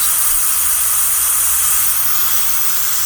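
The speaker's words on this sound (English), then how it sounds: "see how it's letting the steam out" A loud, steady hiss of steam rushing out of an Instant Pot pressure cooker valve after cooking turkey legs, continuous and unchanging throughout.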